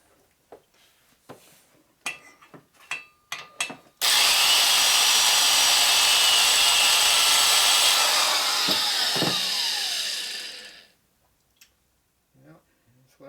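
A cutter tool grinding into an aluminum part of a 1983 FLTC 80ci shovelhead engine rebuild, a loud steady whine lasting about seven seconds that drops slightly before stopping, with someone speaking briefly before and after.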